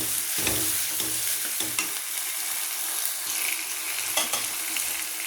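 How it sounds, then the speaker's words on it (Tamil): Tomatoes sautéing with salt in a pan, a steady sizzle and frying crackle under repeated scraping stirs of a spoon, close and fairly loud throughout. "தக்காளி கொஞ்சம் வதங்கிட்டுக்கலாம்."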